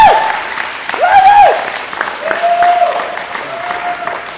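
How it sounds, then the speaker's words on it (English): Audience applause with whoops and cheers at a Beauty and the Beast theatre dress rehearsal, a loud crowd clapping for several seconds as rising voiced cheers ring over it. "Can you please give them a huge round of applause?"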